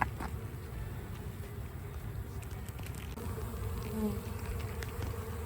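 Honey bee foragers buzz around a hive in a dense, steady swarm hum that carries on throughout, with no voices.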